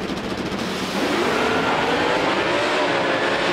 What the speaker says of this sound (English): Carl Tasca pulls the wheel stand this time, and David Barton trying to stay out ahead of the Ford product